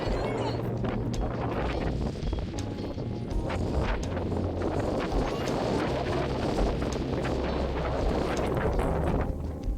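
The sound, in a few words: strong wind blowing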